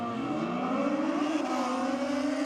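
Kawasaki ZX14R motorcycle roaring down a drag strip at Sydney Dragway, a loud sustained engine howl with rising pitch throughout, no talk over it.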